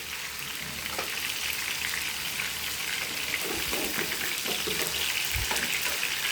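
Pieces of chicken fry in hot oil for khichuri, giving a constant, loud, dense sizzle with a few small pops and no talking.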